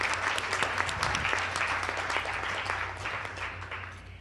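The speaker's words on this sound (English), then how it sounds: "So we should all applaud Dr. Malise." At a conference, an audience claps for the organiser in a lively round of applause. Many distinct hand claps are heard close at first, then the applause gradually thins and fades.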